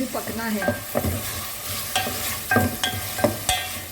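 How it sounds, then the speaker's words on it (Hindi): Carrots and potatoes fry in oil for a vegetable masala khichri, a steady sizzle broken by repeated scraping strokes of a spoon stirring the pan, close up, with a brief spoken phrase at the start. "इसमें मैं अभी गाजर डाल रही हूँ, इसको मैं थोड़ा सा फ्राई करूँगी।"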